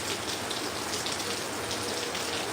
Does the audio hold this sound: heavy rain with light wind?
yes